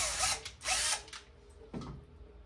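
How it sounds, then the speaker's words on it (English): A handheld power drill bores holes for D-rings on the back of a painting in two short, loud bursts of high whine, followed by a brief, lower grinding pull. "and drill my next hole."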